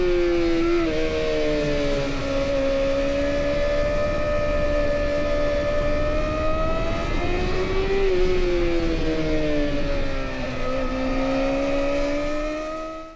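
A Kawasaki ZX4RR 400cc motorcycle engine revs high and loud close by, its whining pitch climbing and falling in repeated sweeps over a sustained roar.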